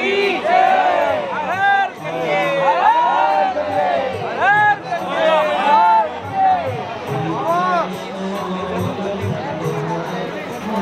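A large crowd mills about at Triveni Ghat in Rishikesh ahead of the Ganga aarti, a steady dense babble of many voices with shouts and calls rising out of it, loud and close throughout.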